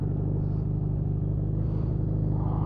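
A 1981 Suzuki GS650GL motorcycle engine runs at a steady idle after a rebuild, a close, even, low rumble with a regular pulsing beat and no voices over it.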